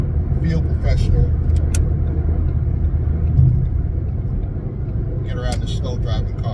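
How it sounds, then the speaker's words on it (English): A car drives through slow traffic with a steady low engine and road rumble from inside the cabin, while someone talks over it at intervals. "Get around the slow driving car."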